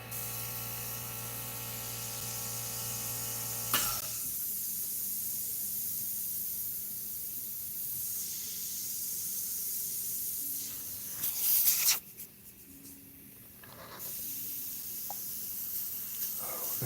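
White paint sprayed onto synthetic paper, heard as a steady close hiss of airbrush spray that cuts off abruptly, followed by quieter intermittent bursts and clicks.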